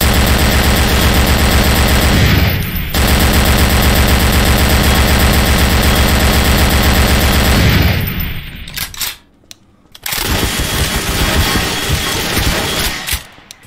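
Video game gunfire rattles in loud, sustained automatic bursts, breaking off for a moment near the middle before resuming, with no talk.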